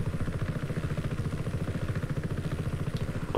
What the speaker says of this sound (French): L'hélicoptère se manipule.